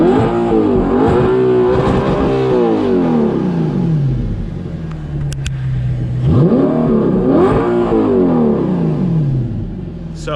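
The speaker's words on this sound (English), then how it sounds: "I'll do an exhaust clip for you guys." A loud Audi R8 exhaust rises and falls as the car accelerates through the gears while driving, each pull climbing in pitch before a shift drops it, heard close from inside the car.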